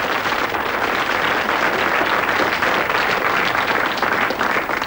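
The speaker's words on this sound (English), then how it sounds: "get another round of applause" A seated audience gives another round of applause, a thick unbroken wash of many hands clapping at even, strong volume from start to finish, with no voices rising above it.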